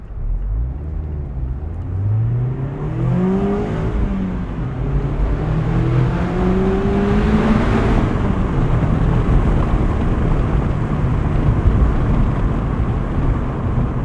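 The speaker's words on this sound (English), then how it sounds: "really potent 4-cylinder sound out of these cars with just a bit of exhaust work" 2023 Mazda MX-5 Miata Grand Touring with a 4-cylinder engine and lightly modified exhaust, revving loudly up through the gears with rising and falling engine pitch and a raspy exhaust note, close and continuous, no talking.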